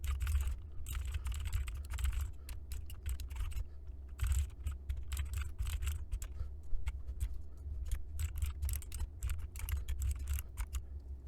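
Steady typing on a computer keyboard while code is written, with rapid clustered key clicks and brief pauses, close and fairly quiet, no talking.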